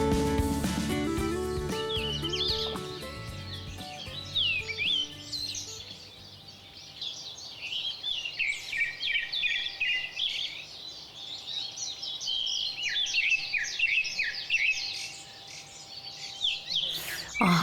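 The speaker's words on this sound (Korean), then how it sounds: "새소리를 들으니까 아침이 시작된 것 같기도 하고" Several birds sing and chirp in a bright, busy morning chorus that carries on steadily after a brief musical opening.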